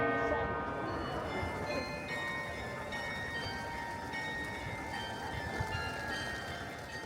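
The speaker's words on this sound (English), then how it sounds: "but the bell is ringing." A cathedral bell rings repeatedly in the distance, its tones hanging over a wash of outdoor noise and wind.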